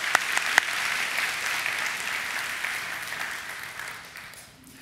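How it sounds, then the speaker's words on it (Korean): A church congregation applauding in a sanctuary, a sustained even wash of clapping from many hands with a few sharper claps near the start, slowly fading toward the end. "우리 격려의 박수로 좀 응원해 주셨으면 감사하겠습니다."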